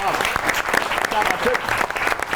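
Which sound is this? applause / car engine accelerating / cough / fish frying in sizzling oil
applause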